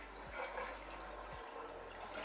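A toilet flushes after being unclogged, a steady rush of running water with gurgles and drips, faint and close with no talking.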